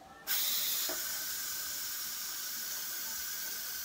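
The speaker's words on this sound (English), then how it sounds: "I'm gonna go ahead and release the steam." An Instant Pot lets off steam after cooking hard boiled eggs: a loud, steady hiss that starts sharply and keeps going without a break, with no talking over it.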